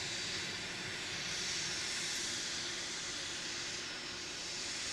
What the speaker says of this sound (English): Yeah, it's a very long spool up on the 330.